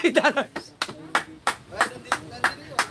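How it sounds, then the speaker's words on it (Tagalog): Hand claps beat in a steady rhythm, roughly three per second, close and distinct, during a prize draw; someone speaks briefly at the start and the clapping carries on alone. "palakpak."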